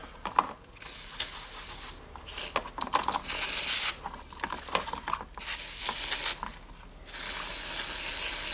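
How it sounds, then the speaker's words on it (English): Electric contact cleaner sprays onto parts of a Milwaukee M18 BLPD cordless drill in several loud, hissing bursts of a second or more each, separated by short pauses with light handling noise. "Just soaking it all in a contact cleaner and brushing with a light brush"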